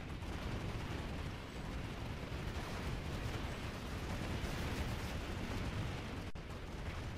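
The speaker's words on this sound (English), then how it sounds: "I think a nade got hit." Grenade blasts and explosive combat in the game Planetside 2 roar as a dense, continuous rumble of overlapping booms, with a sharp crack near the end.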